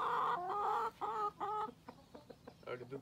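Hens cluck close by in a run of short, throaty calls that break into quicker clucks toward the end, alone without talk.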